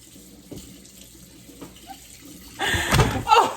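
Water runs and splashes into a kitchen sink drain fitted with a garbage disposal, starting faint and then gushing loudly in the last second, with a few knocks before it.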